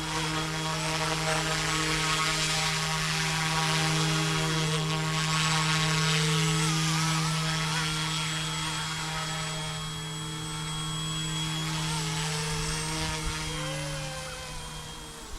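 A YU XIANG F08 1/34 scale Bell 206 RC helicopter flying slowly, a close, continuous high electric whine with a steady low motor hum, pitch wavering slightly as it hovers and maneuvers, with no talking.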